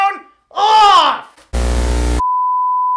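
An electronic phone beep in a live comedy show audience: a loud buzzing burst followed by a sustained steady tone, right after a short vocal sound in the room.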